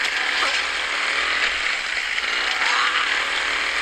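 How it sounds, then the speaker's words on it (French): A harsh, continuous mechanical buzz and grinding rattle of a revving chainsaw in the video game Into the Dead 2, loud and steady throughout with no voices. "on va prendre la tronçonneuse"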